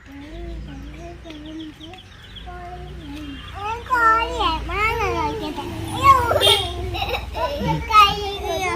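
Chickens cluck and a rooster calls amid excited children's voices and chatter, the clucking loud and close with repeated bursts.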